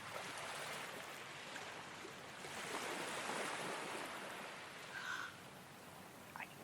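Ocean waves wash and roll continuously in a broad, steady rush of surf, swelling a little in the middle, with no voices.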